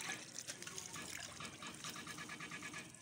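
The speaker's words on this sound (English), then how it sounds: "So this is the washing, the first washing of the Ugba. You wash it into this basket." Water splashes and gushes over sliced oil bean seeds (Ugba) being washed in a basket, a faint continuous trickling and sloshing with small irregular splashes.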